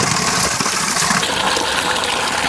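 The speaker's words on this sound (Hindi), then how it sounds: "यहाँ पे देखिए बहुत ज़्यादा पानी बढ़ गया है" A mountain spring swollen by monsoon rains gushes in a loud, steady, close rush of water that runs unbroken throughout, with no voices.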